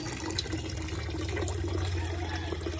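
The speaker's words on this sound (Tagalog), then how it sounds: "Bubuhusan na natin ng tubig." Salty seawater poured from a container into a catch basin outdoors, a steady continuous splashing gush with a low rumbling undertone, fairly close and unbroken throughout.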